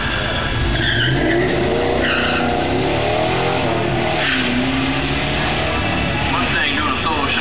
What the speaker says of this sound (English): Mustang doing a solo shot down the quarter mile